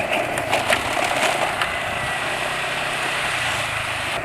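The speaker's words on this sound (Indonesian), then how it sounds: "Tapi ini suara mesin udah kasar." A motorcycle engine runs rough at idle close by, a coarse, uneven rumble with RPM dropping quickly, running continuously without a break.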